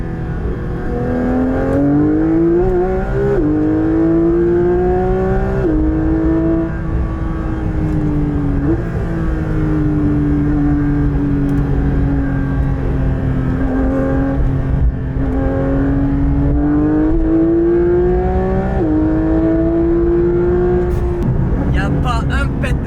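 A Porsche 911 GT3 (992) engine drones loudly from inside the moving car, its pitch rising and falling through repeated gear changes and accelerations, with a voice speaking faintly beneath it.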